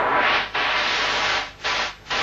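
Filtered white noise from a synthesizer hisses steadily across a broad band, cut by a few brief dips and gaps, with no voices over it.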